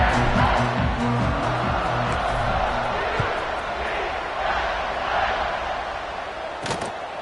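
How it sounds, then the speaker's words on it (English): At a college football game, the stadium crowd buzzes, a loud continuous roar of many voices filling the stands, with broadcast commentary heard over it. "this crowd is buzzing after that last score"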